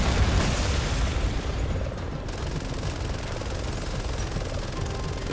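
Missile explosions bring down a helicopter in the video game Resident Evil 6, heard as a dense, sustained blast-and-debris roar that stays loud and fairly even throughout, with no talking.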